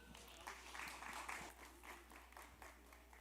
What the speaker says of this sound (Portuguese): Uma salva de palmas para Edu Abreu.